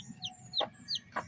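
Rhode Island Red chicks or hens give a few short high chirps and two brief clucks, fairly quiet, over a soft low background with no talking.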